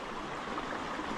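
Stream water flows steadily into a quiet pool in Cumbria, a soft, continuous gentle rush and trickle heard close and alone.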